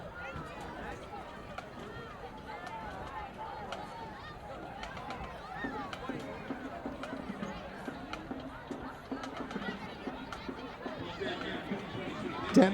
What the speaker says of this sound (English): some of the crowd filing out